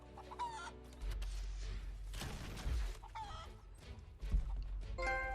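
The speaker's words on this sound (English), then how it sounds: "I have to shoot a chicken out of the air with a fire arrow" A chicken in Rise of the Tomb Raider clucks and squawks in short bursts over a steady low game ambience, with a few harsher flaps and thuds between the calls.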